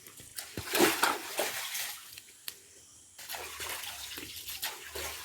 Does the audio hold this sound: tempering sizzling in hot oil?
no